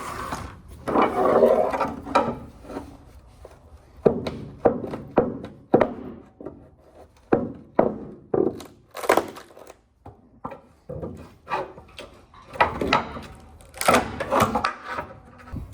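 Wooden deck boards pried up from a trailer bed, heard as a series of loud, irregular thunks, creaks and splintering knocks at close range, with short pauses between bursts and no talking.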